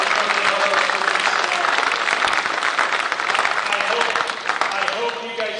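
A crowd applauds UT students and instructors at a construction trades competition, dense sustained clapping that fills the room, with voices mixed in underneath.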